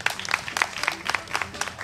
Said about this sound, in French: Mesdames et messieurs, je veux que vous les applaudissiez ce soir.